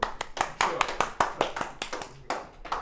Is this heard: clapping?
yes